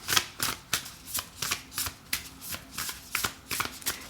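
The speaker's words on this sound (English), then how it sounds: "Let's pull an affirmation card for you." A deck of affirmation cards being shuffled close up, a quick series of about a dozen crisp riffling bursts in a steady rhythm, with no voice over them.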